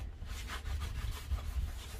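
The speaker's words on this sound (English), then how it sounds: "let me make sure that I wipe it again." A cloth rubs back and forth over a sanded wooden tray to wipe off dust, the rhythmic scrubbing strokes coming close and steady with no talking.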